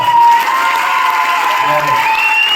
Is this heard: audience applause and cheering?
yes